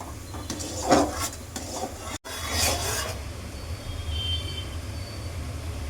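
Sugar syrup for gulab jamun stirred in a pan, soft scraping and swishing strokes near and moderately quiet, a few rhythmic passes followed by a steady low hiss.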